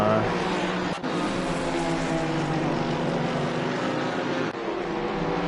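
A GT4 race car in Assetto Corsa Competizione, in a multi-class race at Oulton Park, holds a steady, droning engine note with brief dips near the start and end.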